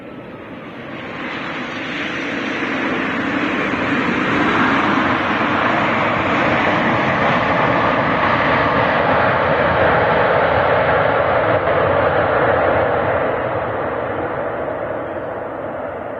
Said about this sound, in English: And this is Jet 2 from Leeds.